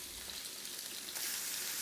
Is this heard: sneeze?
no